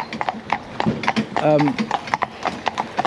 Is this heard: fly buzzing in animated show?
no